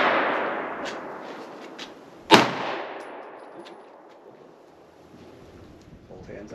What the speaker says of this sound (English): next up, Junior is gonna be shooting the Federal HST 124 grain